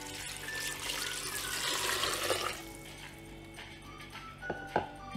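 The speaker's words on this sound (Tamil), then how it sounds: "இப்போ இதல தண்ணி ஆட் பண்ணிக்கலாம்" Water pours into a pot of lamb leg soup being cooked in a home kitchen, a steady splashing stream for a couple of seconds, then quieter, with a few clinks near the end.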